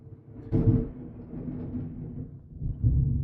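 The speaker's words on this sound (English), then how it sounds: "It's getting ready to storm here" Low, rumbling thunder from an approaching storm rolls through the background, swelling in two louder surges amid a steady, moderate roar.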